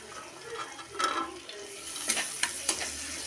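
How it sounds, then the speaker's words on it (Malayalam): Chicken with tomato being stirred and roasted in a clay pot, giving a soft, continuous sizzle with a few sharp scraping stirs close by, no talking. "നല്ലോണം വരട്ടിയെടുക്കാം."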